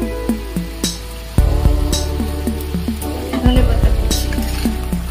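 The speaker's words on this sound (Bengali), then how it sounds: "ঝোলটা ফুটতে শুরু করেছে" Fish curry gravy starts to boil in a pot with a loud, continuous bubbling hiss, while a rhythmic ticking repeats and a few utensil knocks ring out. No one speaks.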